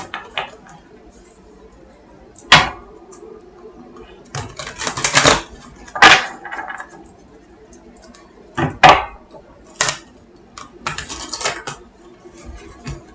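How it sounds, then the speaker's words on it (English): Several bursts of riffling, clattering noise from shuffling a deck of large cards, separated by pauses, fairly close and loud, with no talking. "Oh, not a good shuffle."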